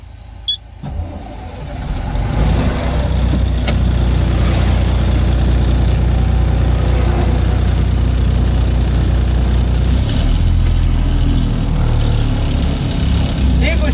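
A vehicle engine starts and settles into a steady, low idle, humming continuously at close range with faint incidental noises; the engine has a fault that makes it cut off after ten minutes.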